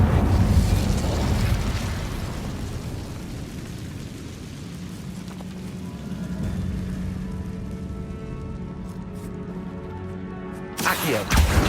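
Incendio fire spell cast in the Hogwarts Legacy video game, a burst of crackling flame that settles into a steady sizzling hiss with a low hum, ending in another sharp flare.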